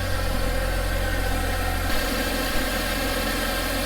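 An Audi car engine with a newly installed intake and diverter valve idles with a steady, low rumble and faint vibration, close up and continuous, with no talking.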